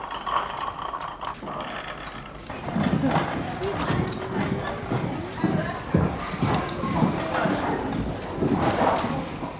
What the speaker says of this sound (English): The looms are the original looms that were brought over from Scotland when the factory was started.